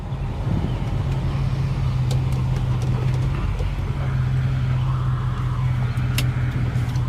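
A classic truck engine idles steadily with a low, even rumble, close by, with faint clicks and knocks over it.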